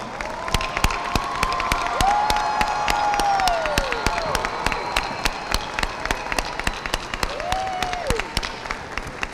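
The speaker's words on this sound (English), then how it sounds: "Let's give these students a big round of applause." A crowd at a high school graduation applauds the graduating students, with steady clapping, sharp nearby claps, cheering and whooping voices rising over it, and loud, sustained sound from a large audience.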